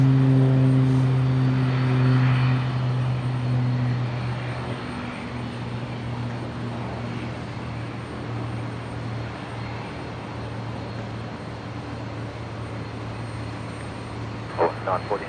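A Beechcraft King Air turboprop takes off from runway 01 right at Brisbane International Airport, a steady droning engine hum with strong low tones that fades slightly as it departs, alone and at middle distance.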